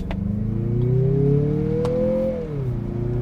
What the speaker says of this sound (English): that engine sounds pretty darn good while accelerating